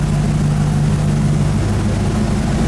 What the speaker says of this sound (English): We do have the exhaust fan running to pull the fumes out.